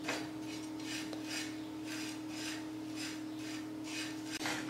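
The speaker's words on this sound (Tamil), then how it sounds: "ஃபஸ்ட்டு நல்லா ஹீட் பண்ணதுக்கப்புறமா அவலை வந்து லைட்டாக வறுத்து எடுத்துக்கலாம்" Flattened rice (aval) dry-roasting in a heated pan, heard as a steady dry rasping and rustling with rhythmic scraping strokes as it is stirred, continuous and close with no talk.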